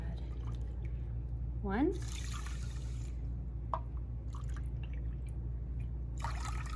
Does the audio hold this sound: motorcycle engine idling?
no